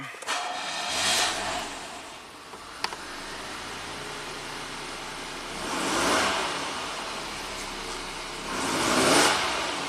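A 1990 Buick Regal V6 with a severe low-power fault starts with a click, then settles into a steady idle that swells in three slow, reluctant revs. The sound is moderately near, with no talking during it.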